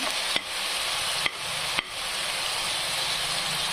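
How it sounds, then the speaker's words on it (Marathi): Red chillies fry in a hot pan with a steady close sizzle and hiss, broken by a few sharp clicks of a spoon stirring against the pan. "छान अशी मिरची फ्राय झालेली आहे."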